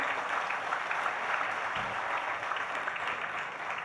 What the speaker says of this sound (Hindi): आप लोगों की तालियां ऐसे बज रही हैं